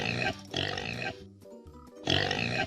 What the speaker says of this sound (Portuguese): É o porco!